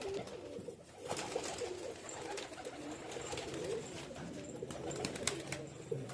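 Large pigeons cooing in a loft, soft repeated throaty coos close by, layered over a busy background of other birds and faint ambient noise.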